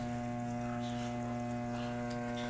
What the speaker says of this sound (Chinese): 洗衣机开始启动，